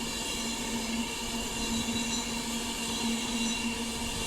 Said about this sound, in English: So now coming through is another Avanti West Coast Class 390 from London Euston to Manchester Piccadilly.